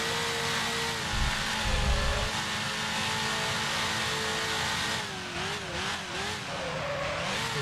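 Engine of a 1955 Mercedes-Benz W19 in the Grand Prix Legends racing simulator revs hard and high, a dense loud drone near the listener, then wavers up and down as the throttle is blipped toward the end.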